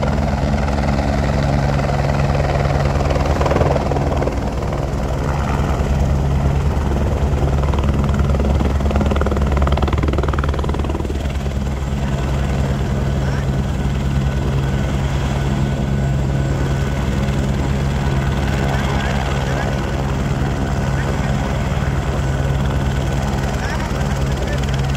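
A helicopter near Kedarnath drones loudly and steadily with a thumping rotor and engine hum throughout, while people talk in the foreground.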